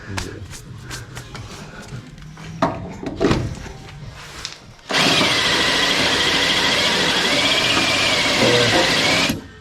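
A hot power drill whirs loudly and continuously for several seconds during a floor plate install on a C33 car, after some scattered clanks and handling noises, running close by.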